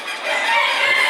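A hen clucks and murmurs continuously, close and fairly loud, in one short unbroken stretch.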